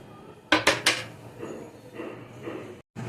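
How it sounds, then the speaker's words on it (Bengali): A metal kadai is set down on a kitchen stove while fish is being cooked, with three sharp clanks in quick succession followed by softer scraping and handling noises. "এবার কড়াই বসিয়ে দেবো"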